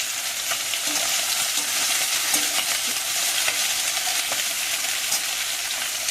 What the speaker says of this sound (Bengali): এটাকে মাছটা ভাজা চলছে।